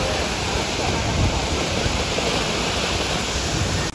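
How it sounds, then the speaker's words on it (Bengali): Water pours down Madhabkunda waterfall in Moulvibazar as a loud, dense, unbroken roar that fills the scene from start to finish. "শুনছেন ঝর্ণার শব্দ,"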